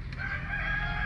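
A backyard chicken crows close by in a short, sustained call over a low rumbling background, with no speech.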